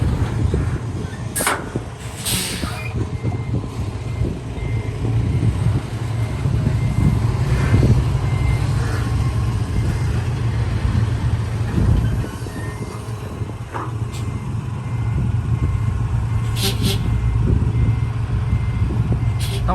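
A truck turning around on a road, with steady reversing beeps over a continuous low engine rumble throughout.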